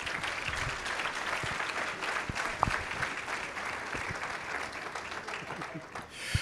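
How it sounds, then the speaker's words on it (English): A room of diners gives a sustained round of applause for the hard-working serving teams, steady clapping filling the space throughout without a break. "let's give them a round of applause."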